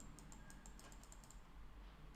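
Rapid typing on a computer keyboard, a steady run of light clicky keystrokes close by, faint and without speech.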